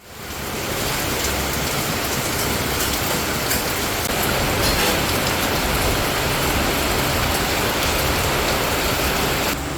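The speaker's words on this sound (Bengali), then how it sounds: "যা বৃষ্টি শুরু হয়েছে" Heavy rain falls in a continuous, dense hiss, pattering steadily on surfaces close by with no break for the whole stretch.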